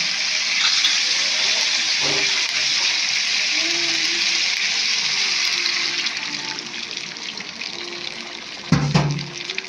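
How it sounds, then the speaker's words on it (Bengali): Water poured into a pan of simmering fish curry gives a loud, continuous gushing hiss with a brief splash and clatter near the end, no talking. "একটু পানি দিয়ে আমরা ঢেকে দিব।"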